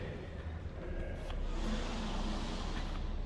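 A 2006 Pontiac GTO engine idles steadily up close, a continuous low rumble that swells slightly partway through, with no talking over it.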